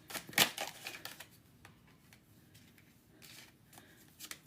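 A deck of tarot cards is shuffled by hand, opening with a brisk, loud riffle burst, then trailing off into softer rustles and slides of the cards nearby.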